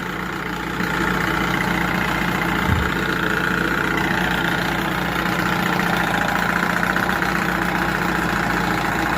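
A 1978 Johnson 6 hp outboard motor fitted with the wrong spark plugs idles low and steady, a loud, even mechanical drone held throughout with a faint knock early on.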